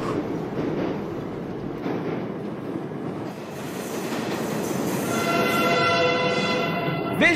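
Subway trains rush past at full speed through a metro tunnel near a ghost station, a loud sustained roar with rattling wheels that builds into high metallic squealing toward the end, close by and with no voices.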